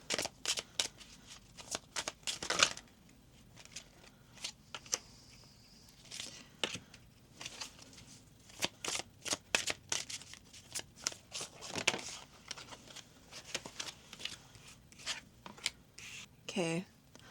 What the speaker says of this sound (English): I feel like she's telling me to pull 3 cards.